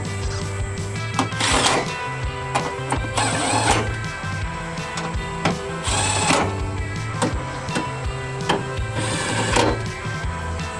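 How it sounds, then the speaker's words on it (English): Power driver tightening M8 bolts on a Ford Maverick bedside MOLLE panel, a series of loud whirring bursts of a few seconds each, close up, with brief pauses between them and no talk. "we're going to go ahead and tighten them all the way down"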